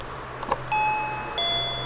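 Home intercom doorbell chime, a soft click followed by two clear ringing electronic tones, the second starting a little after the first, with a low steady hum underneath.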